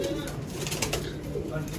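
Pigeons of old Indian breeds coo inside a large loft, soft low throaty calls under steady background noise, with a faint flutter and murmuring voices nearby.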